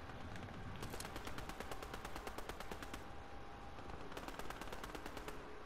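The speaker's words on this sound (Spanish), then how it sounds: "¿A quién le están disparando, güey?" Rapid automatic gunfire in Fortnite rattles in repeated bursts, dense and fairly faint, with short pauses between volleys.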